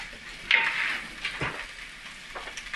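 Bacon crackles softly in a pan, a low steady sizzle with a couple of brief scraping clinks from a utensil, fairly quiet and near, no voices.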